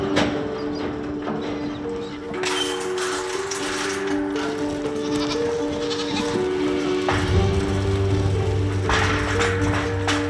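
Goats bleat repeatedly, several wavering calls overlapping from a herd nearby on a station in the Gascoyne, Western Australia, against a steady outdoor background.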